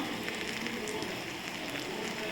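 Turkey berry chutney ingredients with salt sautéing in a pan, a soft continuous sizzle and crackle at low volume with no talking.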